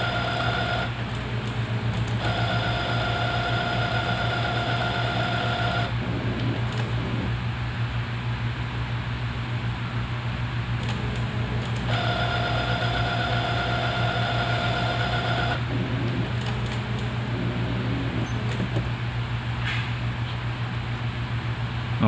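A Brother DCP-T720DW series inkjet printer hums and whirs steadily through head cleaning and a nozzle check, with a constant low motor drone and repeated bursts of higher mechanical whine as the print head cycles, close and continuous.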